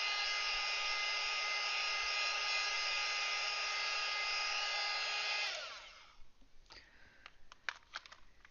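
A hair dryer runs steadily to dry a painting of carnations, its high whine close and constant for about five seconds before it switches off and winds down, leaving faint handling clicks and taps.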